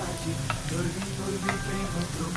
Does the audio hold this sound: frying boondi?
yes